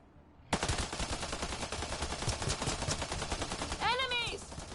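A Darav weapon fires in rapid, steady automatic bursts during combat in Mass Effect: Andromeda, loud and close, continuing for several seconds with a short voice call near the end.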